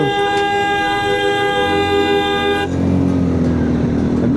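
A car horn blares in a long continuous blast for a couple of seconds, then cuts off, leaving engine and road noise.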